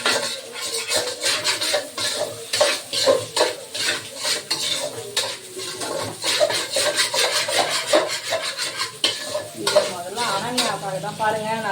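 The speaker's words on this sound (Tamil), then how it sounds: "இதை நல்லா கலரணும். இதெல்லாம் நல்லா வதங்கி வர மாதிரி." Vegetables sautéing for macaroni in a pan, a spoon or spatula scraping and clinking against the metal in quick repeated strokes over a soft sizzle, close and busy throughout.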